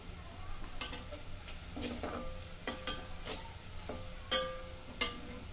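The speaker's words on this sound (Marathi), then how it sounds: "कांदा भाजून घेते लालसर" Onion browning in a pan with turmeric added, with a soft hiss of frying under repeated scraping stirs and a handful of sharp spoon taps on the pan rim.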